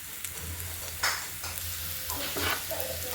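Ivy gourd (tondli) is stir-fried in a pan with a soft, continuous sizzle and occasional scraping stirs.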